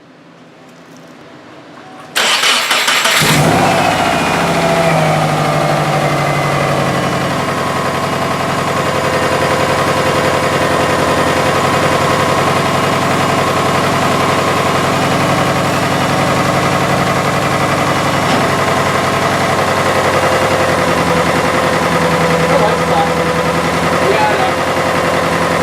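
A Subaru engine cranks and catches after a short quiet start, then settles into a steady, loud idle with a persistent knocking noise running through the drone, close by and alone.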